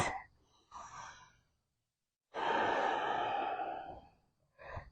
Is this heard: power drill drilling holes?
no